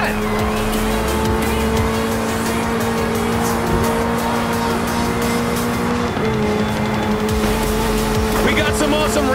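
Hypercars and racing trucks race in Forza Horizon 4, with loud, continuous engine roar and repeated tire squeals.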